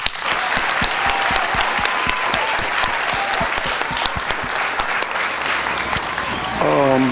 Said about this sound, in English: could we just take a minute and give Mr. Robert Davis and the Better Men a round of applause?